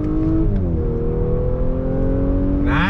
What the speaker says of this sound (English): this turbocharged engine really produces a lot of great power